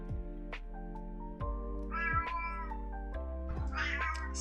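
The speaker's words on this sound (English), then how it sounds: "Слышите моего кота?" A pet cat meows indoors in a long drawn-out series of about four wavering, whiny calls, near and clear, with no one speaking over them.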